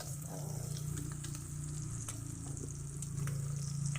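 Corned beef and eggs fry in a pan while being stirred, a quiet continuous sizzle with scattered ticks of the utensil over a strong low hum.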